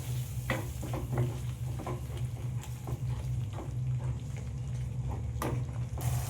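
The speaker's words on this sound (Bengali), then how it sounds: "আবারও আমি ভালো করে কাজু বাদাম বাটাটা মশলার সাথে কষিয়ে নেব" Cashew nut paste with a little water sautés with spices in a pan, giving a faint steady sizzle broken by occasional scraping stirs of a spoon against the pan.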